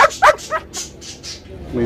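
Dogs at an outdoor dog market in Oujda give several short barks and yips in quick succession, fairly close and loud, with the crowd's murmur underneath.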